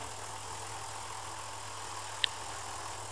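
A tractor engine idles steadily in the Farming Simulator 2013 video game, a low, even drone with one brief sharp click partway through.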